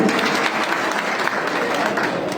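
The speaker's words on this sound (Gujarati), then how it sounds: "એમને તાળીઓથી વધાવી." A crowd at a political party rally applauds steadily, a dense wash of clapping that holds at an even level from start to finish.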